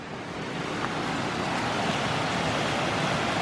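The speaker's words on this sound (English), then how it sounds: "you may already be hearing the creek that's coming from these waterfalls" A creek flows below the High Falls at Cheaha, Alabama, a continuous broadband rush of water that holds steady and fairly loud, with no voices over it.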